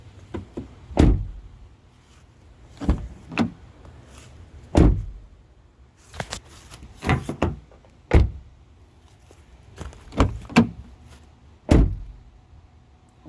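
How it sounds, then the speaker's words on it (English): A damaged Honda CR-V door is shut again and again, each close a sharp thud followed by a short rattle, the impacts coming at irregular intervals a second or two apart at close range. "So we're gonna try shutting the door,"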